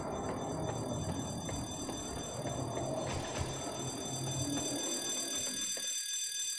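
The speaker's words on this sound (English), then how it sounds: "Sounds like the alarm's over here" An alarm rings in the video game Project Eden as a steady high-pitched electronic tone over a rumbling, busy game ambience, continuing at an even level before dropping away near the end.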